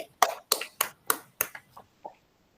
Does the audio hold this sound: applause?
yes